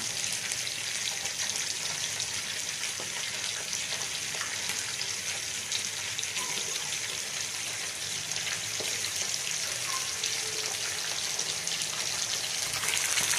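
Masala with yogurt, without tomato, frying steadily in a pan for a fish curry, a dense, even sizzle that holds at the same level throughout, close and with no talking.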